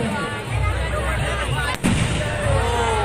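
Fireworks crackle and burst in a dense, continuous barrage at a Dussehra celebration, loud and close, with a brief lull partway through before the popping resumes.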